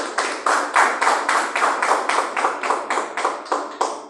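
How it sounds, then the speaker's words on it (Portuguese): Rhythmic clapping at a church service, about a dozen even claps in steady time, loud and close, like a congregation clapping together to a beat. "Palmas para Jesus"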